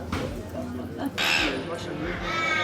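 A crow-like bird on Rottnest Island gives loud, close caws, mixed with people talking nearby.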